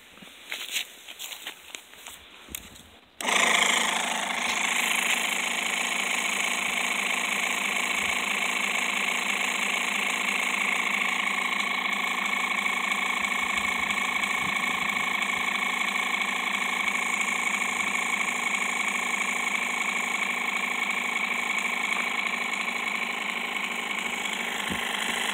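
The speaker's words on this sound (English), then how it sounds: "I'm going to try to blow up a ball with a jumper box that's got an air compressor on it." A small portable jump starter with a built-in air compressor runs loud and steady, inflating a spike ball, its continuous mechanical drone kicking in abruptly after a few seconds of quieter handling noise.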